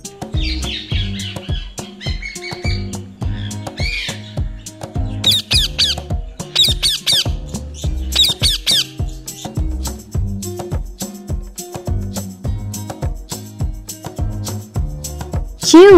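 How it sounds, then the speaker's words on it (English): Parrot squawks and harsh calls repeat in bursts over a steady rhythmic musical backing, loud and close throughout. "And the sound of the parrot is"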